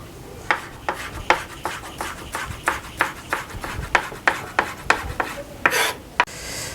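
A knife chops fresh ginger into thin strips on a cutting board, giving a steady, even rhythm of crisp close taps, about two per second, alone with no talk.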